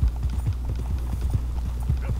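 Horse hooves clip-clop in Red Dead Redemption 2, a steady, close, rhythmic trot over a low ambient hum.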